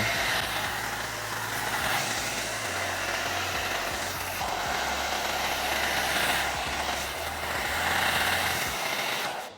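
A heat tool runs steadily on its low hot setting with the turbo engaged, a continuous close whooshing blower hum that holds level throughout with no talking.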